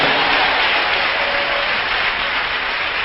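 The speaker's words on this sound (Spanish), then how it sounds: "Denle un aplauso al Señor" Steady, dense applause from a large crowd at a church service, a continuous wash of clapping that holds evenly loud for the whole stretch with no voices standing out.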